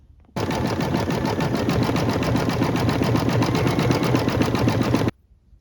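An embroidery sewing machine stitches a train engine design, starting abruptly and running as a steady, fast, loud mechanical chatter for about five seconds before stopping sharply.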